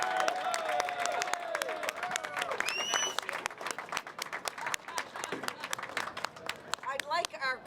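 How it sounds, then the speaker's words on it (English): Crowd applause and some cheering outdoors at a large pancake breakfast in Springfield, Massachusetts, sharp claps ringing out over chatter, with birdsong and other noises mixed in. "a nice, rousing round of applause"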